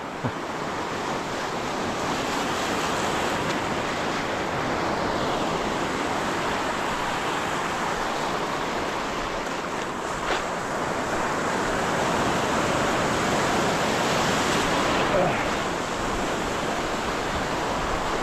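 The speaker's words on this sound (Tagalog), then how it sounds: "Malaki ng alon." Big ocean waves surge and wash continuously near a fishing spot, a loud broadband roar mixed with gusting wind buffeting the microphone, with no voices.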